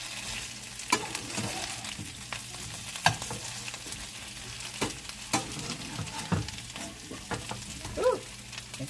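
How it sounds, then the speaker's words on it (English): Potatoes frying in a pan and flipped with a spatula, a steady low sizzle broken by repeated sharp scrapes and taps of the spatula against the pan at irregular intervals, close and fairly quiet. "So I'm going to take the spatula now, and I'm just going to flip them."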